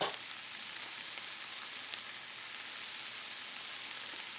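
A flour roux cooks in a pan for a rabbit dish with mustard cream sauce, giving a steady, close, even sizzle and fry hiss that holds from start to finish with no talking.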